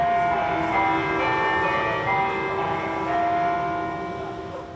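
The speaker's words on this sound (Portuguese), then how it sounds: "os 16 sinos da Igreja da Conceição da Praia tocaram a Ave Maria" The sixteen bells of the Igreja da Conceição da Praia ring out the Ave Maria at six in the evening, a dense, sustained wash of overlapping tolling tones heard from a distance and fading slightly at the end.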